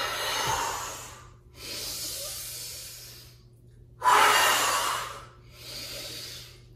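Forceful breathing exhales during a movement and body-awareness class, four long hissing breaths in a steady rhythm, close and fairly loud, with the third the strongest.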